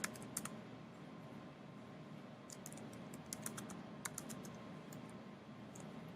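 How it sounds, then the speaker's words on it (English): Typing on a computer keyboard, quick clusters of light key clicks in short bursts over a steady background hiss, close and fairly quiet. "So I'm going to type in here"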